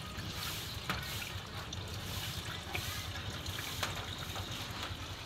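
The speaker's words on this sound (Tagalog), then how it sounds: "Malakas po ang tubig." Mountain-fed water gushes steadily from an outdoor tap at a rural home beside a pig pen being cleaned, a continuous close splashing rush with occasional sharper spatters throughout.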